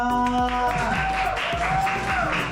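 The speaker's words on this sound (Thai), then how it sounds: "ขอเสียงปรบมือเลยค่ะ" Scattered clapping from a small crowd at an art auction plays under a voice and a tonal musical background, moderately quiet.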